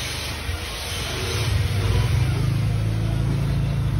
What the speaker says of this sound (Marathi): नीट लाव रे गाडी.